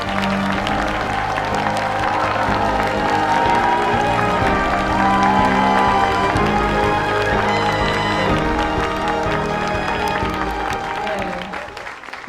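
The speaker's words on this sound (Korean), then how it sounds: "여러분 뜨거운 박수로 맞이해 주십시오" A seated audience at a televised Korean humanities talk concert welcomes a novelist with warm, sustained applause under stage music. The clapping is loud and continuous, then fades toward the end.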